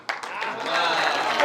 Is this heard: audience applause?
yes